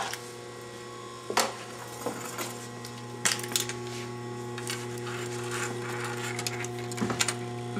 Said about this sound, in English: now we will stitch that seam